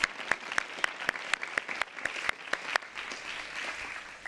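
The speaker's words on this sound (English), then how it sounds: "So let's give our applause once again to all the winners sitting here today" Applause from an audience honouring award winners at a development and gender-based violence innovation awards event, a moderately sized crowd clapping steadily with distinct sharp claps over several seconds before thinning out.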